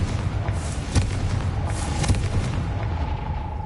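Confringo blasting curse explosion in a Harry Potter video game, a heavy rumbling boom with sharp thumping hits over a sustained low roar, loud and close.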